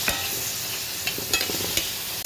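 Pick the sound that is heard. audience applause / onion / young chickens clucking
onion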